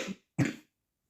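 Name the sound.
cough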